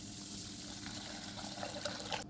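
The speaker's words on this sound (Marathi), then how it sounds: "आता आपण त्याच्यात पाणी घालूया." Water poured into a bowl of barnyard millet, a soft faint splashing and trickling fill that grows a little louder toward the end, no voices.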